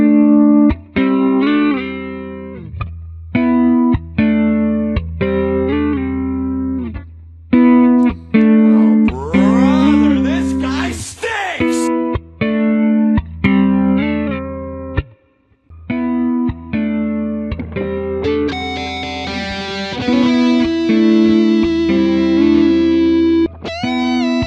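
Looped electric guitar phrases run through heavy effects and an XSonic ULooper with a Spark amp, with repeating chords, swelling distorted bursts and shimmering modulated notes, loud and continuous.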